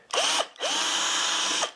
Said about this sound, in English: countersink